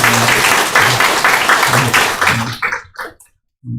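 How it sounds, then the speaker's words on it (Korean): A church congregation gives loud, enthusiastic applause to welcome a guest. The clapping runs steadily for about two and a half seconds, then breaks off into brief spoken words and a pause. "큰 박수로 환영하겠습니다"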